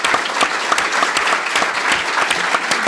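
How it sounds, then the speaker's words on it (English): Steady round of applause from an audience closing a counterterrorism panel discussion, dense continuous clapping with a few sharper individual claps, moderately loud and without talk throughout. "So round of applause for everyone."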